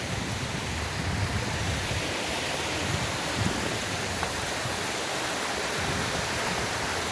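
Rainwater rushes and splashes steadily downhill from Panhala Fort, Kolhapur, a constant broad roar of flowing water nearby with no other sounds.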